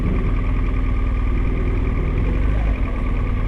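A throaty car engine idles and rumbles steadily close by for the whole stretch, a deep low drone on a sunny day's drive, with a brief dip near the end.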